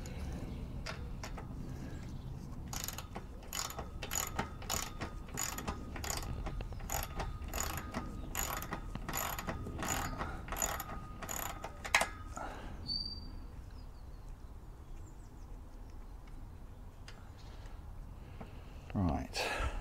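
A socket wrench ratchets a bolt out of a swing, giving a quick series of sharp, close clicking bursts in a steady rhythm for about twelve seconds, then quieter handling noises.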